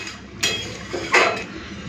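Cooked pointed gourd and shrimp curry is tipped out of a metal pan, with a couple of sharp clinks and scrapes of utensil on pan against quiet surroundings.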